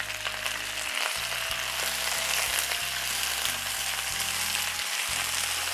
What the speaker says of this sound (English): saute that until wilted, just for about a minute or so